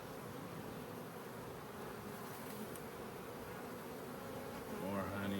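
Honey bees buzz steadily and densely throughout a beehive inspection of honey supers and brood chambers, a continuous close swarm drone that swells slightly louder at the end.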